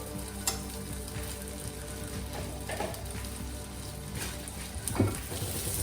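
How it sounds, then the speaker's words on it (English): Butter melting in a pan before a steak goes in, giving a steady low sizzle and crackle with occasional louder pops and the clink of a utensil, and no voices. "So to a pan, add a good dollop of butter and let the butter melt a bit."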